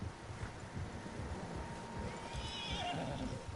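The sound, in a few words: horses neighing in a video game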